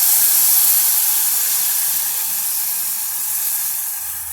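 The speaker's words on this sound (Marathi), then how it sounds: "आता याच्यामध्ये आपण ही डाळ घालूया" Moong dal tipped into a hot pan of oil for a round gourd (dhemse) dish gives a loud, close, continuous sizzling hiss that eases slightly over a few seconds, with no talk.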